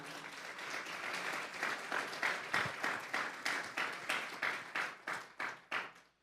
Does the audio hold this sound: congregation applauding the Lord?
yes